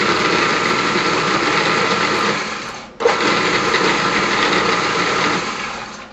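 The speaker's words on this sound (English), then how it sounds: "my wonderful KitchenAid food processor, which I absolutely adore" A KitchenAid food processor runs at a steady high-pitched whir, briefly dropping out and then starting again, loud and close, with no voices.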